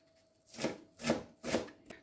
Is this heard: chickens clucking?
no